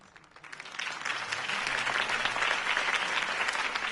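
A crowd in the Telltale Batman game breaks into sustained applause, swelling quickly from a few claps into a dense, steady roar of clapping that continues throughout.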